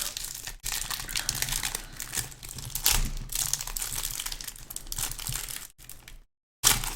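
Sealed plastic wrapping on a Khans of Tarkir card holiday gift box being pulled open, close continuous crinkling and tearing of plastic with brief pauses and a short silent gap near the end.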